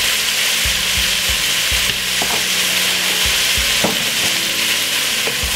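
Cabbage stir-frying in a pan with a steady loud sizzle, seasoned with pepper and vegetable seasoning for a Jamaican home-cooked dish, broken by several thumping stirs and scrapes of a utensil.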